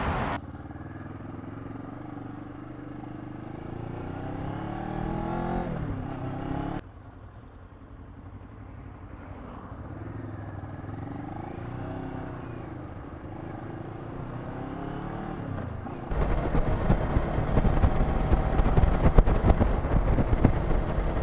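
A motorcycle engine runs and revs during a ride near Greenwood Lake, a close, steady mid-pitched drone with rising and falling rev sweeps and a louder, rougher stretch toward the end, no voices.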